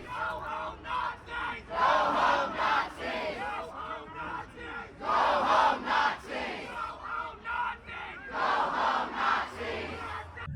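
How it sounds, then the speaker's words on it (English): A large protest crowd at an Atlanta rally shouts and chants in loud, rhythmic surges, several swelling bursts of massed voices rising and falling over about ten seconds. "the crowd didn't respond nicely to that."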